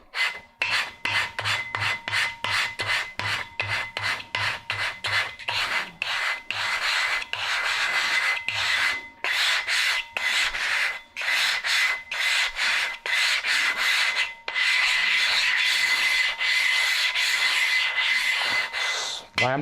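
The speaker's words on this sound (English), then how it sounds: "We're going to rub it into the plate." A hardwood block rasps back and forth as it rubs wet grit into a sharpening plate for clipper blades. The strokes are rapid, loud and close, with brief pauses between bursts.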